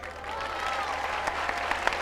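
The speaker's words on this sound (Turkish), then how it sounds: "Alkışlar Haluk Levent'e gelsin değerli misafirler." Applause from concertgoers at an Ayvalık summer tour show: a steady wash of clapping under crowd noise and talk, holding at an even level throughout.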